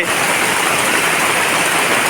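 Heavy downpour drumming on the roof of a small hut, a dense, steady roar of rain that stays loud and even throughout with no gaps or voices.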